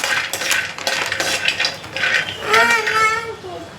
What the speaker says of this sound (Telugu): ఇప్పుడు మనం జీడిపప్పు వేసుకుందాం